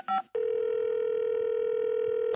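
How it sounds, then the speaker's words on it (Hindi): A telephone dial tone sounds steadily and loudly on a call being placed to a caller, after a brief burst of tones at the start. "कॉलर को फोन लगाया जाए।"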